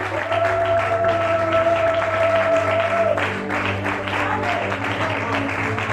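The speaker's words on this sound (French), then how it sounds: "Acclamons, acclamons le Seigneur, acclamons le Seigneur." A church congregation claps in a dense, continuous wash of applause over sustained keyboard tones, loud and close throughout, with the clapping growing more prominent partway through.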